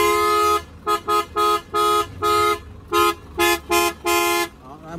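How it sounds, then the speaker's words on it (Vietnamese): A loud Korean dual car horn, converted to a single tone, blares in a series of honks: one long blast, then several shorter toots of uneven length, close by. "đây các bạn nghe tiếng còi này"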